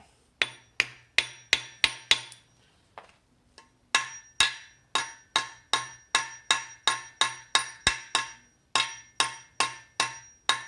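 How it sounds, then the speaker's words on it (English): Steady, sharp hammer taps on a small metal engine part during a crankshaft install on a 2G Eclipse, in quick regular runs, with a brief pause before the tapping resumes, close and fairly loud. "I'm gonna hammer like this one because it's tiny."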